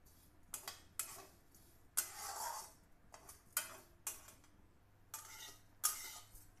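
Thick vermicelli is roasted over a medium-high flame and stirred in a pan, with a spoon scraping and clinking at irregular intervals and a soft sizzle beneath. The sound is close and quiet, and no one speaks.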